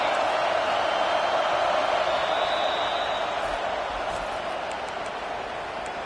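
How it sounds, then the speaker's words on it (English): Stadium crowd noise in the College Football 25 video game, a dense steady roar filling the space that swells during a third-down defensive stand and then eases off slightly. "Decibels rising as the crowd gets behind this defense on 3rd down."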